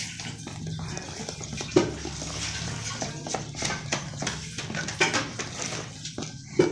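Ground lentil batter with salt and a quarter spoon of soda is stirred in a bowl, giving steady close scraping and irregular clinks of a spoon against the vessel, with a voice speaking over the sound.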